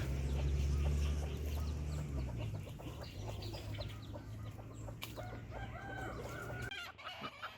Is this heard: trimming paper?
no